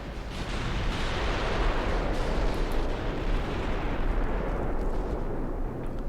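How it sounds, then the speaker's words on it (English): Warship guns booming in Ultimate Admiral Dreadnoughts, a British 1900-era naval battle, as a dense, continuous roar of overlapping heavy cannon fire that stays loud and sustained throughout. "Get all your guns firing."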